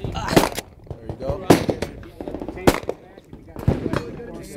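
Single shots from a Kriss Vector fired at a range, sharp cracks spaced about a second apart, each loud and close with brief decay, while voices talk in between.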